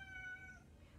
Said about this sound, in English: My cat is chasing a fly and he's very upset that he cannot get the fly.